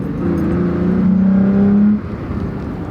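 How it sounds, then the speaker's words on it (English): A Toyota pickup's V6 engine accelerates steadily, the tone rising for about two seconds before easing off, heard from inside the cab. "Decent sounding V6 too, doesn't sound wimpy."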